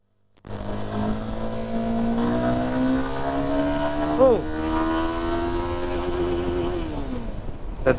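A GPX 250 or CF Moto SR250 motorcycle makes a top-speed run, its engine droning steadily and climbing in pitch, dropping briefly at a gear change, then holding a high, loud continuous note close by.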